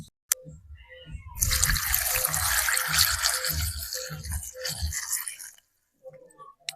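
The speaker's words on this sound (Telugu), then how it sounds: "దీంట్లో కొన్ని నీళ్ళు పోసుకుని బాగా ఉడికి పెట్టుకుందాం" Water pours steadily into a pan of tomatoes for several seconds, splashing and gurgling loudly up close, then stops with a brief drip afterward.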